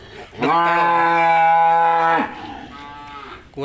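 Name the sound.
cow mooing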